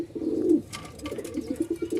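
Pet pigeons, a male and female pair, give a short burst of soft, low cooing close by, repeated in quick pulses over two seconds.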